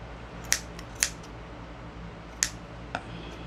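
Scissors snip the ends of a tassel in four crisp, close cuts spaced irregularly over a quiet room hum.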